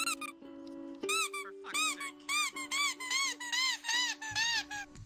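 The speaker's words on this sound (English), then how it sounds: "A very depressed squeaky toy." A squeaky toy being squished in the VRChat game gives a run of loud, close, high-pitched squeaks, about nine in quick uneven succession, each a wavering whine over a steady low hum.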